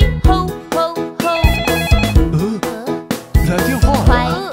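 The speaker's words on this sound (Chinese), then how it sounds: "来电话了。" A bright electronic ringtone melody repeats in rhythmic bursts within a children's song, up front and loud.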